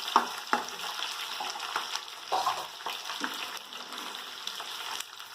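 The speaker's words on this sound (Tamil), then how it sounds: "இந்த வெங்காயம் நல்லா வதங்கிறதுக்காக உப்பு கொஞ்சம் சேர்த்துக்கலாம்." Onions fry with a little salt in a pan for chicken biryani, giving a soft, steady sizzle broken by occasional clinks and scrapes of stirring, with no talk.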